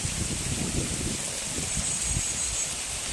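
Heavy rain pours steadily as a dense, even hiss with a low rumbling patter, continuous and fairly close, with no voices.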